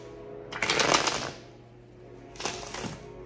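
Tarot cards are shuffled up close in two crisp riffling bursts, with a quiet pause between them.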